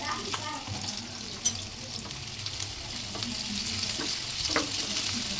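Sliced onions frying with curry leaves in a pan for chicken fry, giving a continuous close sizzle with stirring scrapes and one brief sharp clink near the start.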